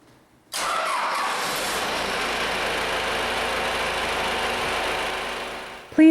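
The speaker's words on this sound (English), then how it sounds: "The controller will then immediately power up and begin a countdown to start the engine." A medium engine started by an automatic start controller fires up abruptly after a quiet moment, then settles into a steady, even idle close by, with a click at the very end.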